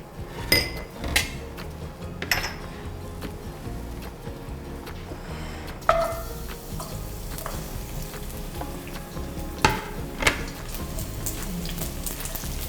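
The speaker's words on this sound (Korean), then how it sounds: "이렇게 마늘을 먼저 볶아주는 거" Garlic stir-fries in hot cooking oil for a shrimp stir-fried noodle dish, a continuous crackling sizzle with scattered sharp pops and a few louder clinks or scrapes of a utensil, close and without talk.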